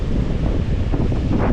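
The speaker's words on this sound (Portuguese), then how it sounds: "Ventando muito mesmo." Strong wind gusting across a sandy beach, a loud, steady low roar of buffeting against the microphone that never lets up, with faint surf-like hiss mixed in and no voices.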